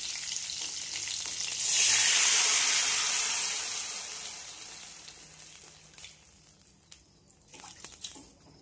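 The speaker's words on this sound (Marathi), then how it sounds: "त्याच्यामध्ये लगेच जिरे मोहरी तडतडली" Cumin and mustard seeds hit hot oil for a tempering and burst into a loud hissing splutter that peaks quickly and then dies down gradually, followed by a few faint clinks of utensils.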